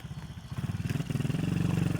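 A motorcycle engine runs close by with a steady pulsing throb that grows slightly louder and fuller as it revs.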